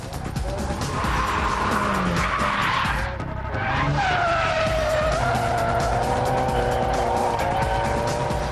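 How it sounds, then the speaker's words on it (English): A road-legal Nissan drifting with sustained, loud tire skid and squeal over a revving engine, continuous across the whole stretch with a brief dip midway, no talk. "The winning drift was this one"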